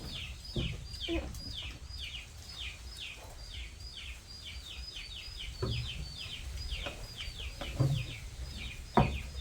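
Chickens clucking repeatedly on a rural Thai homestead, a steady series of short, near calls with occasional louder squawks, over faint background noise and without clear talk.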